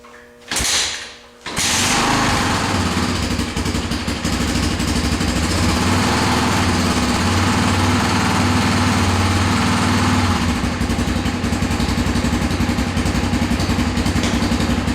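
A cold 1996 Honda XR250L with the choke half on starts after a brief rumble and then runs at a loud, steady, slightly uneven idle close by, a raspy single-cylinder drone that continues throughout.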